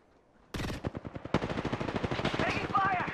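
Rapid automatic gunfire in the battle royale game Apex Legends starts abruptly after a quiet moment, with loud bursts that keep going in a fast rhythm, and game voice lines or chatter are mixed in underneath.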